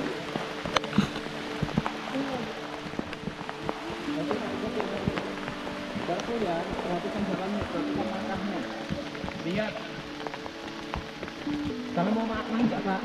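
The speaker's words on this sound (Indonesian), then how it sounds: "Hujan lagi nih." Rain patters on a mountain hiking trail at Puthuk Siwur in Pacet, Mojokerto, East Java, a steady close spatter with scattered sharper drops, while people talk over it.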